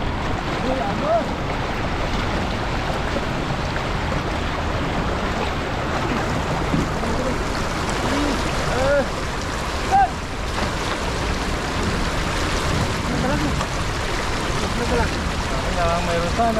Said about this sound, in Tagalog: Uy, agos.